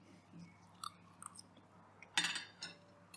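Someone chewing spanakopita, a flaky spinach pie, up close and quiet, with soft crunchy bites and a louder crisp crunch midway.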